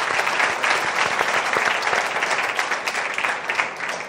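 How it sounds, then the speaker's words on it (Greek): A concert audience applauds loudly during a Greek music tribute show, dense sustained clapping from a large crowd with slight swells, without talk over it. "Αυτό πραγματικά το χειροκρότημα είναι από όλους μας για όλους σας, παιδιά."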